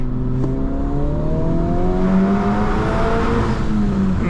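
2022 Honda Civic Type R pulling hard in second gear, engine pitch climbing steadily in loud rising harmonics from inside the cabin, with a brief sharp hiss near the start from the turbo blow-off.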